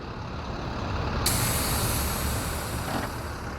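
A bus pulls in beside the listener and its air brakes let out a sudden sharp hiss that lingers, with a low engine rumble steady underneath and one more brief hiss near the end.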